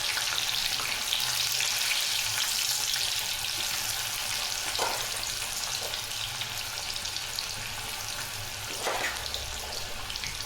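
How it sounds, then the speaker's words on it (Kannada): Corn kernels frying in a little oil for crispy corn make a steady, dense hiss and sizzle, with a few soft pops and clinks standing out briefly; no talking. "ಸೊ ಇದು ಸ್ವಲ್ಪ ಗೋಲ್ಡನ್ ಬ್ರೌನ್ ಕಲರ್ ಬರೋವರೆಗೂ ಫ್ರೈ ಆಗಬೇಕು."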